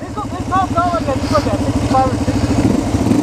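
A Yamaha TTR230 trail bike at the El Mirage OHV area runs with a steady, pulsing engine thrum close by, while people talk over it.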